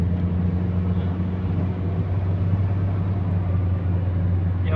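A Toyota Corona car engine hums in a steady, low drone from inside the cabin as it speeds up after a gear shift, a smooth continuous rumble with road noise and no talking.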